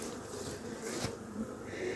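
A steady, dense buzzing of many honeybees at an open hive fills the clip, close and continuous, with no voices.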